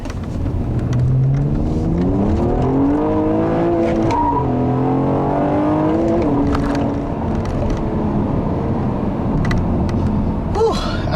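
A 2014 Honda Accord Coupe with a V6 and 6-speed manual accelerates hard, engine note climbing steadily in pitch through the gears, loud and close from inside the car, with a brief shift dip around midway.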